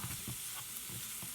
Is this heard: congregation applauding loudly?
no